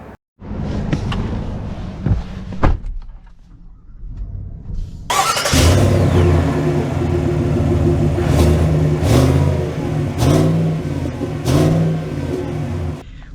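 A 2024 Chevy Tahoe Z71 SUV with a luxury package: a few clicks and thumps from inside the cabin, then the engine starts and runs, revving and accelerating in a loud rising and falling drone.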